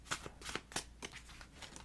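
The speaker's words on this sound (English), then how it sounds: "So I'm shuffling very gently so it doesn't yell at me." A tarot card deck shuffled gently by hand, a series of soft riffling bursts at an uneven rhythm, close and quiet with no talk.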